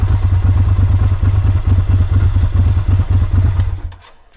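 Ducati Monster motorcycle idling close by, a loud steady low throb with rapid clattering pulses that runs without a break, then cuts off and fades out near the end.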